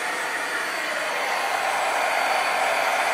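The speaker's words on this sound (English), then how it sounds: "and then I have my heat gun" Heat gun blowing hot air over paper, a steady, even whoosh of rushing air close up, continuous and unchanging throughout with no voices.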